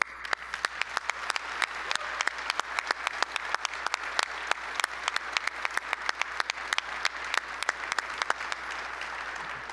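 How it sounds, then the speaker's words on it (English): An audience at a conference general session gives sustained applause, dense overlapping claps at an even level, with a brief spoken remark near the end. "please join me in a big round of applause to celebrate him"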